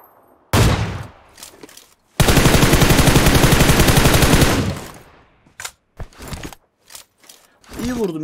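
Rapid automatic gunfire from a first-person shooter video game, loud and close, in one short burst then a sustained rattling stream of shots, followed by a few scattered single shots and someone talking.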